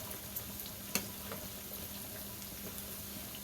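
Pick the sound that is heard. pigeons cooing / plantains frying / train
plantains frying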